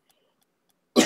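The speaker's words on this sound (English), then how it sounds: "So I've got a mad cough." A single harsh cough bursts out abruptly near the end after near silence, loud and close to the microphone.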